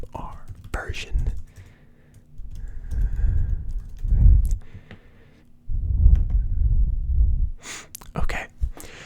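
Keys clatter on a computer keyboard while Java code is typed, close and soft in bursts, with quiet whispering woven between the typing runs in an ASMR setting.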